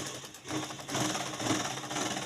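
A sewing machine stitches a kurti with a steady, fast mechanical whir that runs continuously at close range, pausing only briefly near the start.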